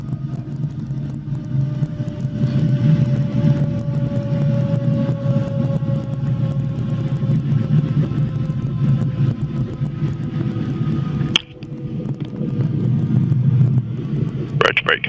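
A small training helicopter winds down after engine shutdown, a steady low rumbling whine slowly falling in pitch, with a brief sharp clunk near the end as the rotor brake goes on. A voice talks over it on the intercom.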